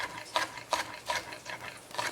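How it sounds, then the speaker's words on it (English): A knife slices scallions on the bias, making about six crisp, evenly spaced chopping taps against a board, close and fairly quiet, with no talking. "I'm gonna just cut those on the bias."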